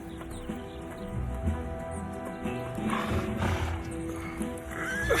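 A horse neighs and snorts among other riding horses outdoors, a rough whinny close by under steady background ambience with no talk.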